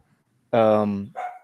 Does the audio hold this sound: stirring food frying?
no